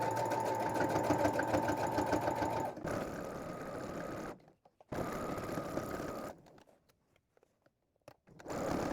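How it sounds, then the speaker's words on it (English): Domestic sewing machine stitching an X onto a fabric square for a bowl cozy, with a loud, rapid mechanical chatter in two bursts broken by pauses, and no talking. "now we're going to sew that X on the sewing machine"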